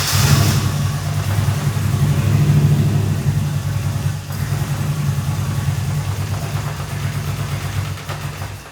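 A Nissan 240SX engine just started, holding a steady, loud, low idle with a rough rumble. It revs a little higher at first, then settles into a continuous drone with no talking.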